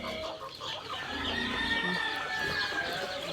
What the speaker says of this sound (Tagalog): Nagpapakain na po ng manok.